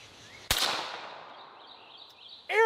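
A single sharp report comes from a suppressed Desert Eagle .50 caliber pistol, fairly loud and close, with a decaying tail. A brief bird call or squeak follows near the end.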